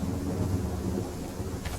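Steady rain with low rumbling thunder during an outdoor game, a continuous loud wash of noise with no break.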